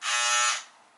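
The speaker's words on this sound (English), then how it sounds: "How do you use your buzzers? You turn it on." Electric hair clippers switch on with a sharp, loud buzzing whine held for about half a second, then quickly drop to a faint hum.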